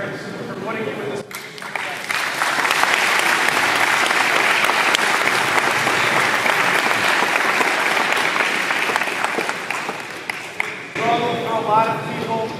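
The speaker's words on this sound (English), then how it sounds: "give a quick round of applause for your parents" A crowd applauds loudly and steadily at a youth basketball showcase event, the clapping swelling in after brief speech and holding for about ten seconds before talk resumes.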